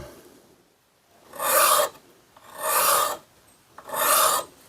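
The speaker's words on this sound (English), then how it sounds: "So I'm going to take a file and bevel that and smooth that out." A metal file rasps along the chipped edge of a rare Sedgley No. 4 hand plane in three separate strokes, each about half a second long, evenly spaced and close by, with quiet pauses between them.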